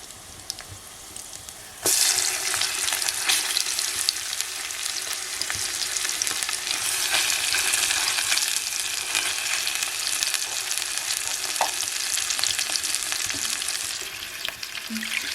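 Mackerel sizzles loudly in masala with garlic and curry leaves in a pan on a wood-fired chulha. A sudden burst of frying starts about two seconds in and holds steady and close, with occasional stirring and no talking.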